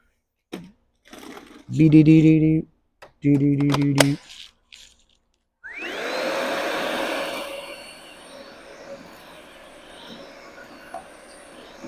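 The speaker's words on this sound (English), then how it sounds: "I think I need to vacuum this up real quick." A vacuum cleaner starts up with a rising whine and runs steadily, loud and close, sucking up fiberglass debris, after a few short bursts of other noise.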